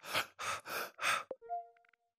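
Four heavy, breathy inhale-exhale pants, recorded close with a sound recorder, imitate someone catching their breath, followed by a short click and a faint electronic tone.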